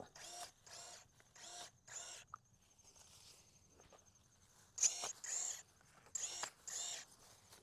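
SeeSii electric shears snip in repeated short, close bursts while cutting back a small tree in a garden, with quiet pauses between groups of cuts and a high whine on some strokes.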